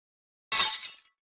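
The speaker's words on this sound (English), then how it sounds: "as a result, the glass breaks easily" Glass shattering in a visual novel: one short, bright crash that fades within about half a second, heard alone.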